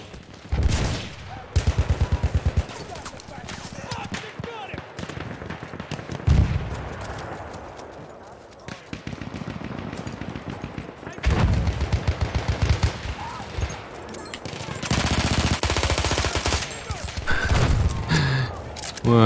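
Rapid cannon fire and gunfire in a World War I video game, dense bursts of automatic shots and heavy booms layered with clatter, loud and continuous with brief lulls.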